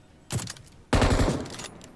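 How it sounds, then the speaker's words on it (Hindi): Automatic gunfire in the BGMI battle royale video game: a brief rattling burst, then a longer, louder volley that tails off, both close and with no talking. "गोली चला रहा होता है"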